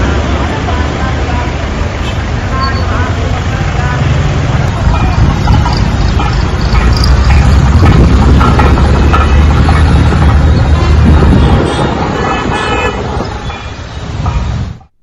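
Heavy vehicle traffic is backed up at the Alipiri toll gate in Tirumala, with a loud, dense, continuous rumble of engines and road noise mixed with crowd babble that stays steady throughout.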